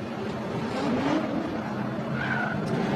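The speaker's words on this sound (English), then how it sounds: "Dr. Odie slams into Conrad." Formula Drift cars at Irwindale skid and make contact in competition, a continuous loud roar of engines and tire noise with a rising squeal late on, steady throughout with no clear distinct crash impact.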